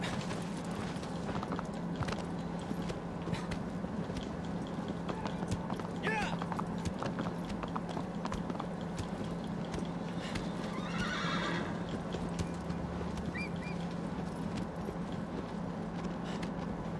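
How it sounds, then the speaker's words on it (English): Rapid hoofbeats clatter continuously as a horse gallops in Shadow of the Colossus, with a couple of whinnies rising over the running rhythm. "Prove that you're worthy to be my horse."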